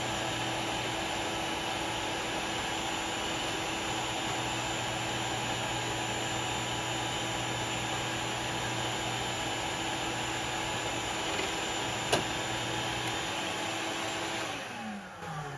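A shop vacuum runs steadily in a woodworking shop, a loud close whooshing roar that holds constant for the whole stretch before winding down at the end, with no voices.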